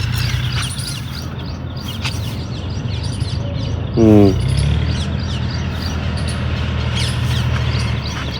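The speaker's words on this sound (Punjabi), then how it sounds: "ਬਈ ਪੰਛੀਆਂ ਦੀਆਂ ਆਵਾਜ਼ਾਂ ਸੁਣਨ ਵਾਲੀਆਂ ਇੱਥੇ" Birds chirping and calling during an early morning walk outdoors, scattered bright tweets near and far with one quick rising trill, over a steady low rumble of ambient background noise.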